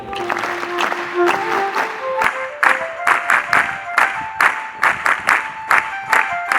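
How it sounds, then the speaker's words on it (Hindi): Audience at a Gurukul welcome ceremony for Gujarat's Governor claps together in a greeting, bursts of applause repeating in a rhythmic sequence over several seconds, with a sustained tonal sound running beneath. "हम 3 ताली वादन से साथ में जुड़ेंगे"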